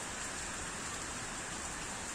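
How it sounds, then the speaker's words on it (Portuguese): Heavy rain pours down steadily on farm crops during a prolonged morning downpour, a dense, even hiss of close rainfall with no pauses and no voices. "Já estamos chegando a 98 milímetros de chuva desta manhã"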